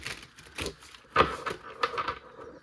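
Tarot cards are shuffled close by in a few soft, papery bursts of riffling and tapping, quiet and irregular, with no talk.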